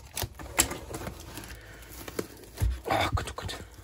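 Packing tape on a cardboard parcel being slit and torn with a knife, a quick series of close scratchy rips and scrapes with short pauses between strokes.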